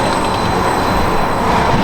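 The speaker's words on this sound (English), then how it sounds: "There goes the train." A train rumbles past very close and loud, a dense continuous roar of wheels and rail noise with no break.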